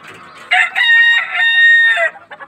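A young rooster, about seven or eight months old, crows nearby, one loud, drawn-out cock-a-doodle-doo with a strained, wavering tone, followed by a few soft clucks.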